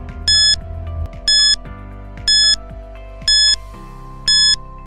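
A quiz countdown timer on an English journalism lesson sounds time up with five evenly spaced bright electronic beeps, about one per second, ringing over a steady low tonal music bed, no voices.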